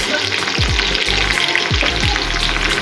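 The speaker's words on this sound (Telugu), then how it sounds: "ఆవాలు జీలకర్ర చిటపటలాడేటప్పుడు ఎల్లుల్లిపాయ దంచి వేసుకోవాలి." Crushed garlic frying in hot oil with spluttering mustard seeds and cumin, a tempering for ridge gourd chutney: a loud, steady sizzle with a few soft thuds of a spoon against the pan.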